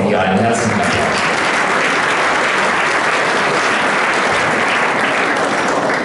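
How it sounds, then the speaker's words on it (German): A theatre audience at a youth sports awards ceremony applauds warmly and steadily, dense sustained clapping filling the hall for several seconds. "Kriegt natürlich auch von ihr einen herzlichen Applaus."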